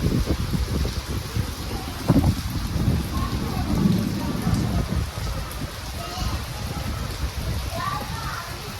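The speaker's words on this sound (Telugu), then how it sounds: "భారీ అంటే భారీ వర్షం అయితే పడుతుంది" Heavy rain drums on a surface close by at the Madanapalle tomato market, a dense steady wash with a few louder thuds.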